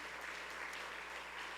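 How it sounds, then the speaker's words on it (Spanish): A church congregation claps together in worship, a brief, steady patter of many hands, fairly quiet and distant-sounding. "Denle un aplauso al Señor con todo su corazón."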